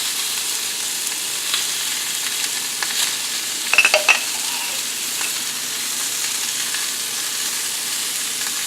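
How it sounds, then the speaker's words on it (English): Pork chops sear in a hot pan with a steady, close sizzle and crackle throughout, broken by a brief cluster of sharper pops and clinks midway; no talking. "as the pork chops continue to cook for another 6 minutes"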